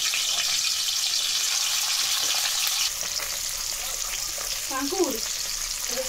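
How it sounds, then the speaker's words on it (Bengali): Pieces of katla fish frying in oil, heard as a dense, even sizzle with stirring noises and a few short clinks near the end, close by and without any voices. "আর মাছগুলো এবার এক এক করে ভেজে নেব।"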